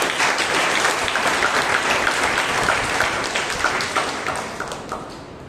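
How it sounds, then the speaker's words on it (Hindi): A church congregation at Grace Ministries Vasai breaks into sustained, full-room applause from many hands, loud and dense at first, then thinning gradually toward the end. "एक जोरदार प्रभु को ताली बजाएंगे."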